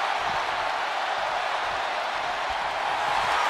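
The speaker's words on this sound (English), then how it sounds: "The sound of this crowd is deafening, and he's asking for more." Wrestling arena crowd at a major pro wrestling event roaring continuously, a dense, loud wash of cheering that fills the whole moment without a break.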